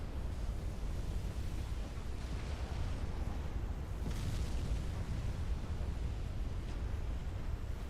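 A warship explodes in the naval combat game Ultimate Admiral Dreadnoughts, heard as a dense, continuous rumbling roar of blast noise with deep low-end boom throughout, loud and sustained without clear individual bangs.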